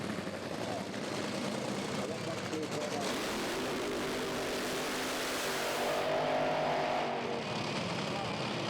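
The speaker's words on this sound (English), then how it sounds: "we should see the flames from the nitro cars now as FIA Top Fuel takes to the track" FIA Top Fuel nitro drag racing cars roar on the Santa Pod strip at a European Finals qualifying session, a loud continuous engine blast that swells and shifts, with a commentator's voice running over it.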